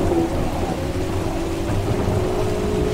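Steady heavy rain with low rolling thunder in the Assetto Corsa Evo racing simulator, a dense continuous wash of rainfall and rumble, loud and unbroken, with no talk.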